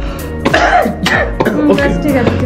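A man coughing and clearing his throat in a comedy drama, several rough, loud coughs in quick succession close up, over a faint background hum.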